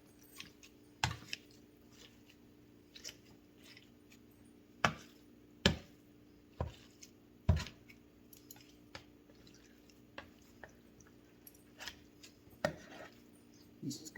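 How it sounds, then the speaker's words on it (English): A kitchen tool chops and shreds cooked chicken in a series of sharp, irregular cutting knocks, loud and close, with quiet pauses between strokes and no talking. "And scoop it and cut it. And now our chicken is all shredded."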